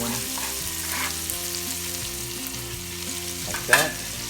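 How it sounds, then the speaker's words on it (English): Onions sautéing in sizzling butter in a pot for Greek chicken lemon soup (avgolemono): a steady close sizzle over a low background hum, with a sharp spoon clink near the end. "Going to saute onions."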